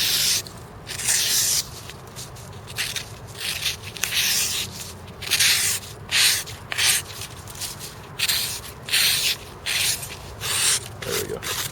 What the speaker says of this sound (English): Let's go ahead and do some cutting demonstrations here.